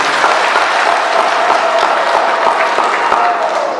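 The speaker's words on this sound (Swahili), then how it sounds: "hebu tujipigie makofi mengi sana" A crowd claps steadily and densely at an environmental certificate ceremony for villages in Iringa, sustained applause close and loud from start to finish without pause.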